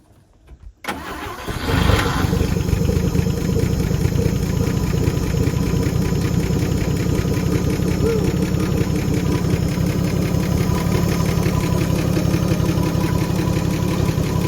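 A 1956 Chevy 210, left sitting for 25 years, cranks and starts, then settles into a steady, rough, close idle with a knocking pulse that runs unbroken to the end.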